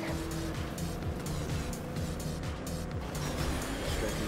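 A race car engine drones steadily in Trackmania Turbo, a continuous close revving with rhythmic pitch shifts as the car accelerates.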